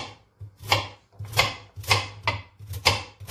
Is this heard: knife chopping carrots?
yes